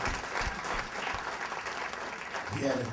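Audience applause at a hip-hop talk show, dense steady clapping filling the room throughout, with a voice briefly rising over it near the end.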